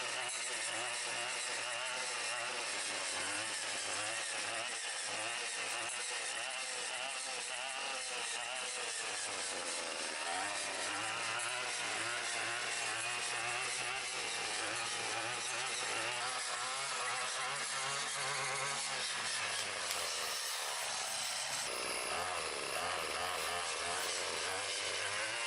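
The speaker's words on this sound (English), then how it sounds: "just focusing on the edger here." A Craftsman string trimmer fitted with a TrimmerPlus edger attachment edges a lawn, its small engine whining steadily and continuously up close, with slight shifts in pitch as the load changes.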